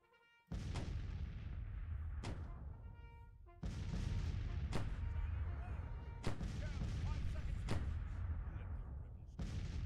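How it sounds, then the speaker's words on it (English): Civil War artillery batteries in Grand Tactician firing at will, a string of sharp, booming cannon shots at irregular intervals, each followed by a rolling decay over a continuous low battlefield rumble. "Batteries, go to fire at will."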